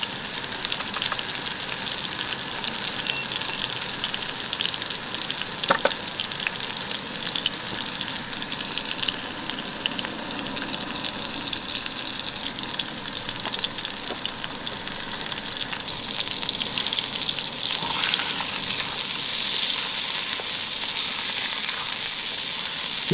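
Ground beef sizzles steadily in hot olive oil in a pan, a loud, continuous crackling fry that holds even throughout, with one faint clink partway and no voices.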